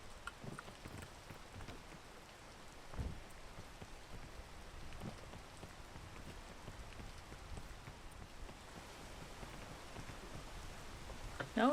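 Tropical rainfall in the video game PEAK, a quiet, even hiss of rain with occasional heavier drops and low thuds, alone throughout.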